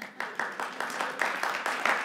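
Women in a lecture audience clap in a quick, steady patter of overlapping claps that stays close and moderately loud for about two seconds.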